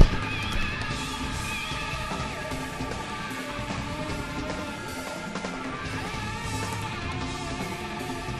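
Horse whinnying in an Unreal Engine MMORPG game: a loud neigh at the start, then a sustained whinny with faint hoof clip-clop and game background sound, no speech.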